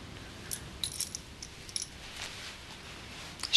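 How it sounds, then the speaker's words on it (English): Keys being handed back jingle lightly in an indoor room, with a few faint metallic clinks and a brighter jangle at the end. "I presume you'd want your keys back."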